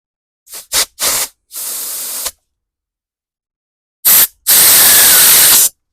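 Compressed air blasts through a Honda generator carburetor in loud, close hissing bursts: several short puffs, a longer blow, a pause of silence, then another short puff and a sustained blast.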